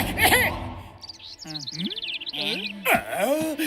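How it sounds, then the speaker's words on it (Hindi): A cartoon bird in a Motu Patlu comedy chirps in a quick series of bright, sweeping tweets between lines of speech, clear and close in a quiet scene. "ये सुंदर चिड़िया, ये कहाँ से आ गई?"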